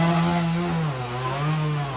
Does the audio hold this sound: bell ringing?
no